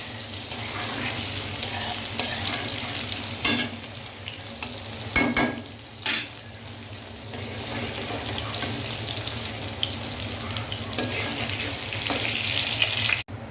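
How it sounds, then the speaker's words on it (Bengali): Paneer frying in oil and ghee in a kitchen pan gives a steady, moderate sizzle with a few brief clatters of stirring and scraping, and no one speaks. "পনিরটা ভাজা ভাজা হয়ে গেছে"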